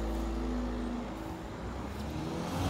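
A car passes on a street, its engine a steady, close rumble filling the whole stretch with broad road noise and no voices.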